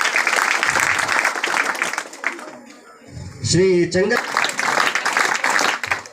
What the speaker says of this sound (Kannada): ಜೋರು ಚಪ್ಪಾಳೆ ಮೂಲಕ ಹೃತ್ಪೂರ್ವಕ ಸ್ವಾಗತವನ್ನು ಬಯಸ್ತಾ ಇದ್ದಾರೆ.